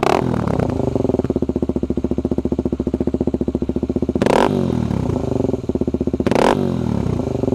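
A Suzuki DRZ250 dirt bike engine idles and revs with a rough, rapid exhaust pulse, loud and close, blipping the throttle twice to a harsh bark; FMF Quiet Core exhaust insert.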